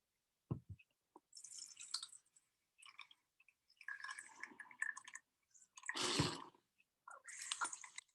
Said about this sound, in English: I'm going to rinse it out into another container I have here